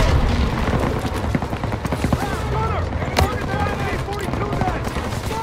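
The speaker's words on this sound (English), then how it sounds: "Gunner, target that MG-42 nest, right side! Fire!" Tank cannon fires on an MG-42 machine-gun nest in the Call of Duty WW2 mission Operation Cobra, with booming blasts and rattling machine-gun fire in a dense battle din, a voice calling out over the fighting.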